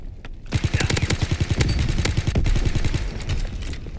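Rapid automatic gunfire from a WWII-era video game, a dense close burst of rhythmic shots that runs loud and continuous for several seconds, with no talking over it.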